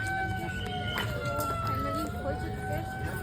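A siren wails steadily at a garden at closing time, its rising and falling tones faint and distant beneath nearby outdoor chatter and ambient crowd noise.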